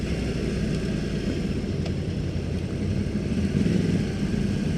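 A liter-class motorcycle engine idles in first gear while coasting forward on barely any throttle at an international motorcycle show, giving a steady, loud, low rumble that runs unbroken throughout.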